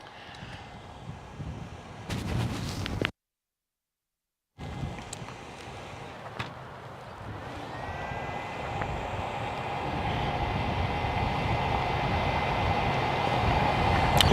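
Jetstar Airbus A320neo airliner at Gold Coast Airport, its engine noise a steady distant roar that gradually swells louder through the second half, broken briefly by a gap of silence near the start.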